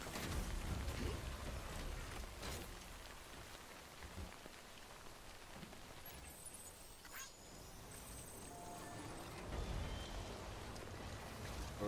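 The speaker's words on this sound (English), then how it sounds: "is it because it's raining?" Rain falls steadily in a video game world, a soft even hiss of drops that is fairly faint, with a low rumble now and then and no voices.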